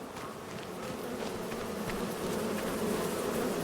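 Bees swarm and buzz steadily around beehives in a video game, a dense, continuous insect drone that holds close and even, growing slightly louder throughout with no voices over it.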